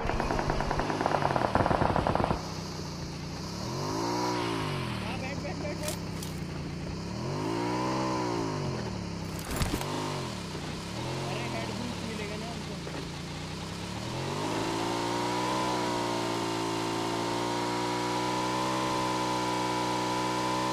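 A motorbike in a multiplayer shooter video game starts and revs up repeatedly in surging waves, then settles into a steady loud engine drone, with sharp gunshot cracks near the start and middle.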